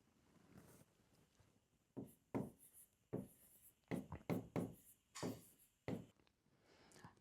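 A number pattern is written out by hand for a reasoning lesson: short, scratchy writing strokes come in quick clusters separated by brief pauses, quiet and close.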